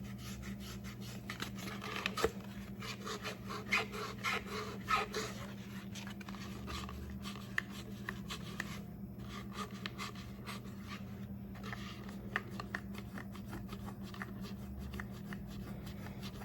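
Close, repeated scrubbing and rubbing strokes work stripped epoxy from the rim of a tumbler, an irregular rasping with faint scratches over a low steady hum, with no talk.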